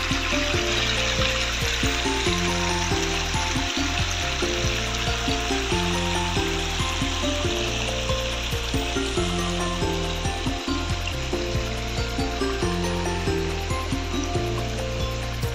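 A small waterfall in Kandhamal pours steadily, a dense continuous rushing and splashing of falling water that stays loud and unbroken throughout, with no voices.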